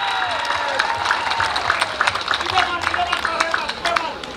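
A crowd at an outdoor campaign rally for a 2024 regional election in Wasior claps and cheers, with scattered sharp claps and shouts, under ongoing voices.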